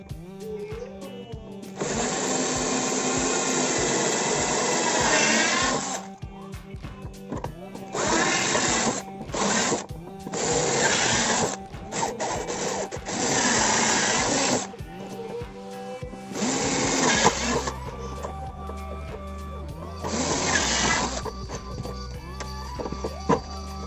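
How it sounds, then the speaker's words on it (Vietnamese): Power drill boring 4 mm holes into a plastic fan frame for a DIY rechargeable fan, heard as loud whirring bursts of several seconds each, starting and stopping repeatedly with short pauses between, no talk. "Ok, thì bắt đầu mình khoan nha các bạn."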